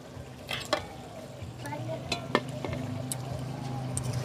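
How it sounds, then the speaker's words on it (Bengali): Cumin paste is stirred into a Bengali fish curry with shapla (water lily stems) and pona fish, a soft scraping of spoon against pan over a gentle simmering sizzle, quiet and close. "জিরে বাটা দিয়ে ভালো করে মিশিয়ে দেব। আমি আস্তে আস্তে নেড়ে দিচ্ছি।"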